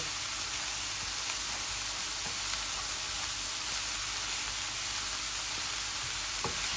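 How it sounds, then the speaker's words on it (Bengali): Dried kachki fish with mixed vegetables sizzles steadily in a pan over medium heat with no water added, a continuous close frying hiss with occasional soft stirring scrapes. "আমি এগুলা মিডিয়াম আঁচের মধ্যে শুধু নাড়াচাড়া করব, এই যে ভাজির মতো"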